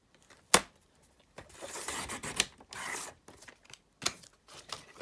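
A paper trimmer blade slicing through card stock to cut a flap for a sail-themed mini album, heard as a few rasping scrapes in short bursts, close and fairly quiet, with no talk.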